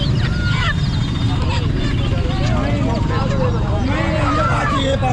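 Ducks and other poultry at the Chakan chicken market call and honk repeatedly over a constant crowd murmur, with the bird calls rising and falling in quick overlapping bursts.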